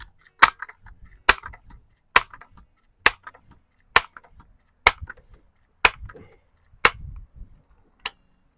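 Umarex NXG APX multishot air gun firing at an outdoor range: nine sharp, loud cracks spaced about a second apart, each followed by a brief faint rattle.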